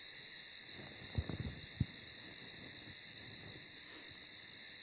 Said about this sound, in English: I'll get rid of the crickets